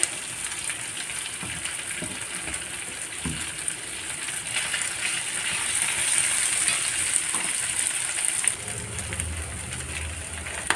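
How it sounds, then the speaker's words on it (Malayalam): Beef and grated coconut sizzle in coconut oil in a frying pan, a steady crackling hiss with brief stirring scrapes, getting somewhat louder partway through. "ഞാൻ ഈ ഫ്രൈ പാനിലേക്ക് മാറ്റാൻ പോവാം കുറച്ച് വെളിച്ചെണ്ണ ഒഴിച്ചിട്ടുണ്ട് ഇതിൻ്റെ ഉള്ളിലേക്ക് നമുക്ക് അങ്ങോട്ട് ഇട്ട് കൊടുക്കാം"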